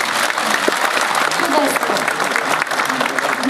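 Sustained audience applause filling a concert hall, dense and loud clapping throughout, with a voice speaking over it.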